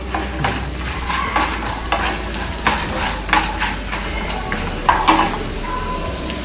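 Urad dal fries in a pan with a steady, close sizzle, with soft stirring scrapes and occasional clinks of a spoon against the pan.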